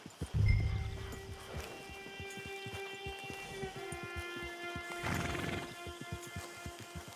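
Horse hooves clip-clop at an even walking rhythm in Red Dead Redemption 2, with a low thud at the start and a swell of rustling noise midway, set against a faint tonal game backdrop.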